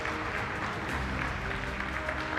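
An audience at a global business summit applauds opera singers and an orchestra: a steady, dense wash of clapping that holds evenly at a fairly close, full level for the whole stretch.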